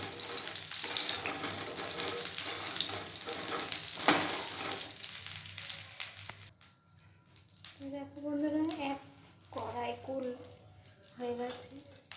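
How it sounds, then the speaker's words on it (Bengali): Jujubes sizzle and fry in a wok while being stirred, a steady dense hiss for about six seconds before dropping away as a person talks over the quieter cooking. "এক কড়াই কুল হয়ে গেছে, নাড়তে পারছি না,"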